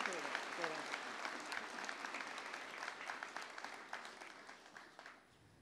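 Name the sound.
audience applause at entrance ceremony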